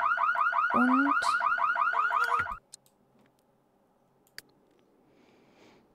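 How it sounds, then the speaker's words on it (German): A house burglar alarm in The Sims 3 game blares a loud, rapidly warbling electronic siren for about two and a half seconds, then cuts off abruptly, leaving near silence with a couple of faint clicks. "da geht auch schon die Alarmanlage los"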